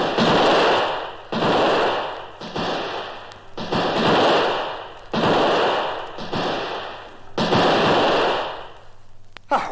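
Guns fire in a fight against attackers in canoes: about seven loud, booming blasts come in a steady rhythm, each ringing out for roughly a second before the next.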